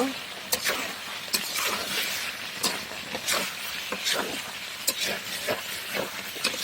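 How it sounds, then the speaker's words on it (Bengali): Fried potatoes being stirred into simmering chicken curry with ground spices in a pan, a steady close sizzle and hiss under regular scraping strokes of a spatula, with no talking. "আলুগুলো দিয়ে আমি কয়েক মিনিট নেড়ে চেড়ে নিব"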